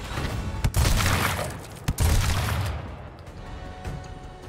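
Two loud shotgun blasts in Gears Tactics, a double shot fired in quick succession about a second apart, each a sharp crack with a rumbling tail before the din fades.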